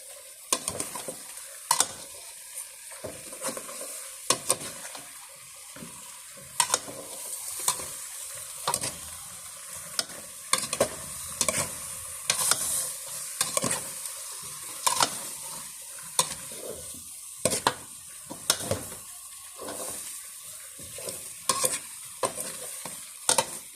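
Papaya stirred into chicken in a pot, a long stretch of irregular metal clinks and scrapes from a utensil against the pot over a soft background hiss, close and moderately loud, with no talking.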